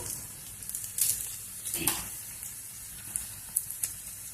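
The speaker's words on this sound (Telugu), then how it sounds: "ఎల్లిపాయలు కొద్దిసేపు వేయించుకున్నాము బాగా వేగినాయి ఇప్పుడు ఎండిమిర్చి వేసుకున్నాము" Garlic and dried red chillies sizzle in hot oil for gongura dal, a steady soft hiss with occasional crackles and pops, close and fairly quiet.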